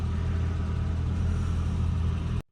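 A 40-year-old BMW E30 garage find runs with the choke on, its engine holding a steady, loud close-up drone before cutting off abruptly at the end.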